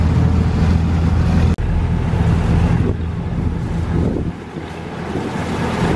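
Boat cruising on the Kuttanad backwaters in Kerala, a steady loud engine drone with wind buffeting the microphone and water wash, continuous throughout with a brief dropout near the start.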